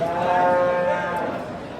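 Cattle low and call amid a busy livestock market din in Kattakurgan, with a long drawn-out moo standing out near the start over the crowd's murmur.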